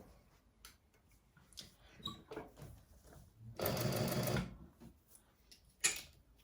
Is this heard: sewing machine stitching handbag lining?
yes